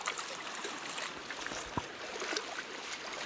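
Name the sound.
floodwater flowing like a stream through farmland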